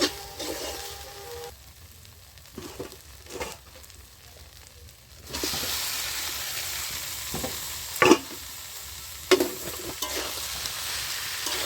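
Fried cauliflower and potato being sautéed in spiced masala in oil, a low sizzle that swells louder midway, with scattered stirring scrapes and a couple of sharp pan knocks, no one speaking.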